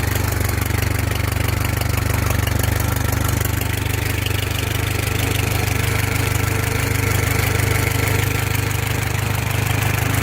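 A 1915–1925 Essex car engine idles smoothly and loudly up close, a steady low rumble with even rhythmic firing that holds for about ten seconds without speech.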